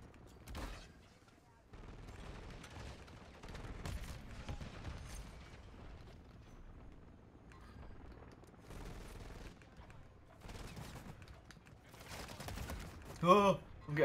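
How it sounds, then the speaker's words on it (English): Scattered gunshots crack at moderate distance in the survival game Rust, several separate bursts over a quiet stretch with faint mechanical clicks. "Oh, I'm getting shot."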